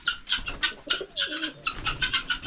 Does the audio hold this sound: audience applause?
no